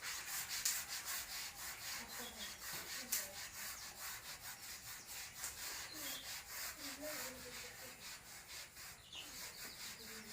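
Writing is rubbed off a classroom board with quick, rhythmic back-and-forth scrubbing strokes that continue steadily for several seconds, fairly faint and without talk.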